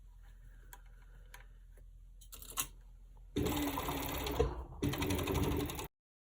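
A serger runs along a sweatshirt neckline seam in a loud, steady burst of stitching that stops briefly and resumes, following quieter ticking handling sounds.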